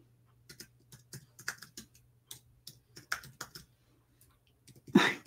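A computer keyboard rattles with quick, uneven typing: close, light clicks in short runs with brief pauses, then a louder thump at the end. Nobody speaks.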